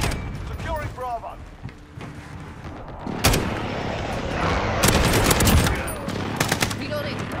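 Bursts of gunfire and explosive impacts from an airstrike in Call of Duty: Modern Warfare multiplayer, loud sharp cracks clustered around the middle and later part, with game voice lines and a player talking at times.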